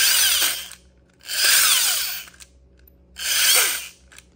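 Toy ray gun firing its space sound effect in three long bursts, each a buzzing, swirling metallic whine with falling sweeps, separated by short quiet gaps, close and fairly loud.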